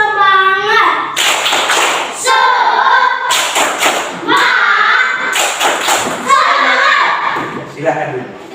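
A group of children and adults performs a rhythmic 'tepuk semangat' clapping chant, sharp hand claps in repeated bursts mixed with chanted voices, loud and close, with a few pauses between sections.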